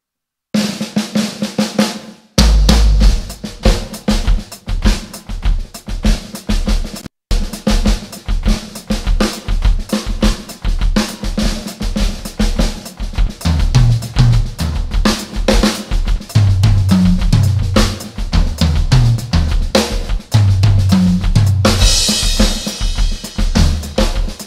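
Drum kit playing a three-limb coordination groove, a steady repeating pattern of kick, snare and cymbal hits that is loud and close, running alone for the whole stretch with busier tom-like accents near the end.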